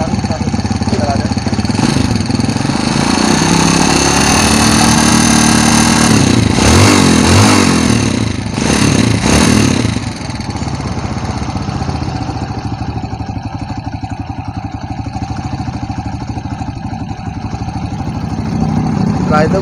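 A Yamaha Jupiter ZR motorcycle engine idles steadily close by during carburetor adjustment, with brief revs partway through before settling back to a smooth idle.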